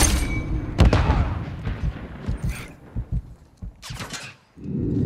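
Gunfire and booming shots in the video game Call of Duty MWIII multiplayer domination, punchy bursts scattered irregularly with heavier impacts at the start and end.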